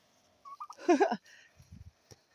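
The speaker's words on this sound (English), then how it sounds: "My turkeys." Turkeys on a farm pasture let out a short rapid gobble, a burst of warbling calls close by and fairly quiet, followed by a few low grunting sounds.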